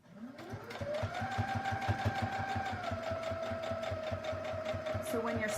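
Sewing machine running steadily on a fabric heart project, a rapid even clatter of stitches with a rising motor whine, close by, while a person talks over it.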